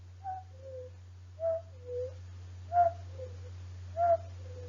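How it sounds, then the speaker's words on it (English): A bird calls at night in Romania in a two-note pattern, repeated four times at a steady, moderate distance, each phrase clear over a low constant hum. "that's the cuckoo"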